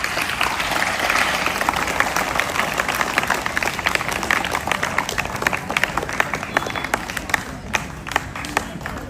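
Loud, steady clapping from an audience welcoming guests at a Bharat Vikas Parishad branch event, a dense crowd sound that thins slightly near the end.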